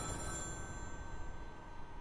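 A telephone ringing in a Five Nights at Freddy's-style fan game, a steady electronic ring tone held faintly over a low background hum, with no talk.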